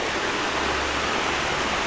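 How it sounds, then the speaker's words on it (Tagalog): Water rushing steadily through an open concrete canal, a dense, continuous close roar with no talk over it. "ito yung running canal natin dito na sumasalo ng tubig"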